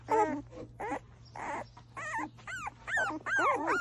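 Newborn puppies squeak and whimper close by, a string of about eight high, wavering little cries in quick succession, with a low steady hum underneath.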